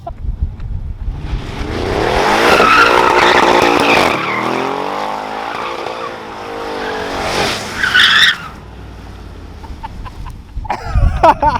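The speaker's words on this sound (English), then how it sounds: "Who says you can't do donuts in all-wheel drive?" An Audi RS7 tuned to 750 horsepower spins donuts, its all-wheel-drive tires squealing in a long loud skid over a roaring engine, then easing off before a few crackling revs and distant chatter at the end.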